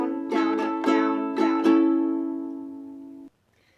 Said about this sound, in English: It's a very basic ukulele strum.